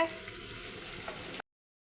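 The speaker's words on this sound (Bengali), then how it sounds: "আলুগুলো এখন ভেজে নিচ্ছি" Potato pieces coated with salt and turmeric fry in hot oil, a steady close sizzle lasting over a second before cutting off abruptly.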